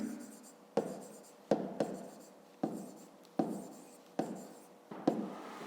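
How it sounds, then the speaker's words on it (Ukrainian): A pen writes by hand on paper in a notebook during a math exercise, in about seven distinct close scratching bursts, each starting sharply and then trailing off. "Пишемо мірний циліндр."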